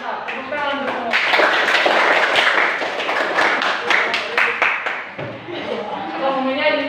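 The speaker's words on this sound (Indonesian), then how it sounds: "Tepuk tangan untuk semua." A class of sixth-grade primary school children claps together in their classroom, a burst of sharp, fairly close claps lasting several seconds, mixed with children's voices and chatter.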